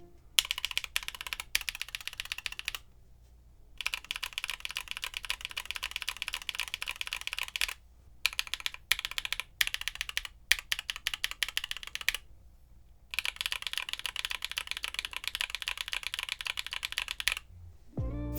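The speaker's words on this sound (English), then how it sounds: "Take a listen to a comparison between the stock and modded switches" Steady, rapid typing on a mechanical keyboard with KNC Keys Green Jacket switches modded with Krytox 205G0 lube and films, a dense run of clacky keystrokes broken by a few short pauses, close and clear.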